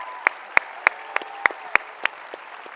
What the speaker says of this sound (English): let's give one more round of applause to our guests today